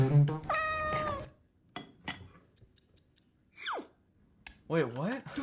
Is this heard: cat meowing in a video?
yes